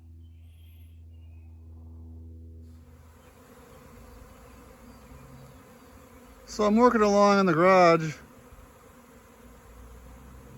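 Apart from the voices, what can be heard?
swarm of honeybees buzzing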